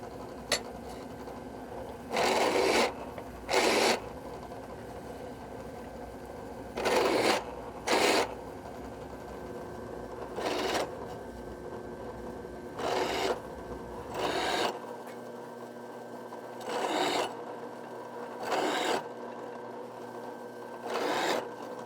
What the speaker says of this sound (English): you can always just use a larger diameter drill bit to do the same thing